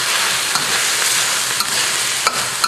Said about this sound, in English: Okay, so the eel's been cooking.